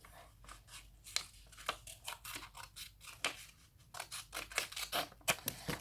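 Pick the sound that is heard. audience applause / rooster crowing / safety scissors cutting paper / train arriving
safety scissors cutting paper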